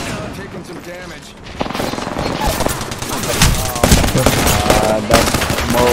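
Rapid video game gunfire during a team firefight, with dense automatic bursts and single shots rattling close and loud, building in intensity over several seconds, with players talking over the shooting.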